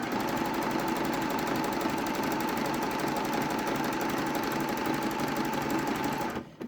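A sewing machine runs a stretch stitch along a jersey top seam in one continuous, even mechanical hum that stops abruptly at the end.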